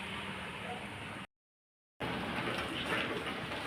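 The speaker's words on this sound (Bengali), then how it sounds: "বুঝতে পারছো বৃষ্টি হচ্ছে।" Steady broadband hiss of rain falling outdoors during a sudden shower after humid, muggy weather, continuous and fairly even, broken by a short stretch of silence before resuming slightly louder.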